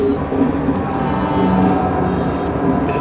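A train rumbles steadily along in a train driving video game, a continuous low mechanical drone with faint clanks and no voices.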